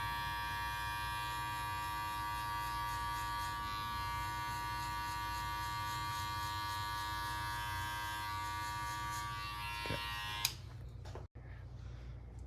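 Electric hair clippers fitted with a number 1 guard buzz steadily while fading hair, a constant close mechanical hum that cuts off abruptly near the end, followed by a sharp click.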